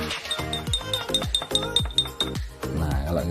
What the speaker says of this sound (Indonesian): kalau ini kita aduk